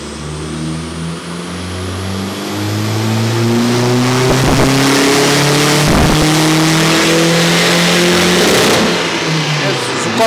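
A SEAT Ibiza 6L 1.9 TDI PD diesel engine climbs steadily in pitch as it is revved hard through the gears on a dyno, loud and close, then eases off at the end. Voices are faintly present.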